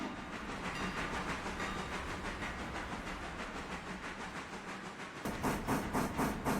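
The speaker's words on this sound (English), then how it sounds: "Ah, it's our red passenger train again." Red passenger train rolling along in the Railroader game, steady rumbling rail noise with hissing and a rhythmic clickety-clack that grows louder and sharper near the end, no talking.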